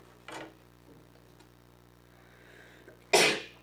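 A single loud, sharp sneeze bursts out near the end, preceded by a faint short puff and quiet ticking in the background.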